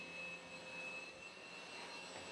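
A heat pump compressor slowly spinning up with its casing removed: a steady mechanical whir with a high whine and broad hiss, running continuously at low level.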